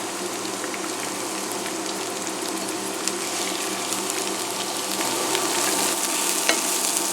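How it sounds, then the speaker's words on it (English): Onions, fennel and garlic sautéing in oil in a pan, a dense continuous sizzle with faint crackles and light stirring, growing slightly louder toward the end. "add in our onions and fennel and the garlic, and we'll go ahead and saute that up"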